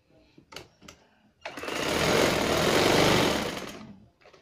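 A sewing machine stitches down over elastic on a pair of trousers. A few soft clicks lead into a steady, close whirring run of about two seconds that then stops.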